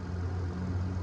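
A 2014 Caravan engine with a bad transmission runs under an open hood, a low steady engine hum heard up close, with no clear rise in pitch.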